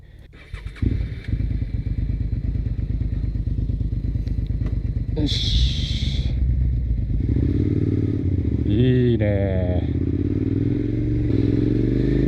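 A Suzuki SV650 motorcycle engine starts with a clattering crank, then settles into a loud, steady idle, with a couple of revs and a brief spoken remark.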